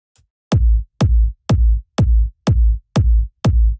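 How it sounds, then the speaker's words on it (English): Deep, fat and punchy kick drum sample for melodic house, hitting seven times in an even four-on-the-floor pulse, each thump loud and booming with a short click on the attack. "there's a very fat and punchy, bassy kick"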